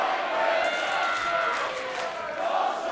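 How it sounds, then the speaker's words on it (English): A large indoor wrestling crowd roars and cheers continuously during a match, a dense wash of voices with shouts rising and falling throughout. "Listen to this crowd."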